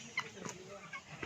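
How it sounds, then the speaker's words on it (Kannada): Turkeys on a farm, a few short quiet clucking calls spaced unevenly over a faint outdoor background, with a soft voice nearby. "ಇಲ್ಲಿ ಟರ್ಕಿ ಕೋಳಿ ಫ್ರೆಂಡ್ಸ್, ಇದೆ ನೋಡಿ ಟರ್ಕಿ ಕೋಳಿ."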